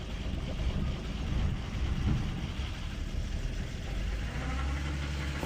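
A BMW 328i running just after an engine swap, a steady rough idle rumbling close by with an uneven low throb that holds continuously throughout.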